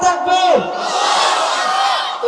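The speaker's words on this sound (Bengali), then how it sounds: "যদি আপনারা খুশি থাকেন একটু হুজুরকে তাকবীর দিয়ে দেখেন লিল্লাহি।" Crowd at a Bengali Islamic religious gathering shouting the takbir, a single caller's rising voice followed by a loud, sustained massed cry from many voices, close and reverberant.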